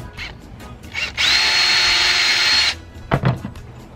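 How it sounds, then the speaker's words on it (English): Power drill with a 1/4-inch bit boring a hole through the center of a 3/4-inch cap, a loud steady whine lasting about a second and a half, framed by brief handling clatter. "put a hole right in the center of the cap."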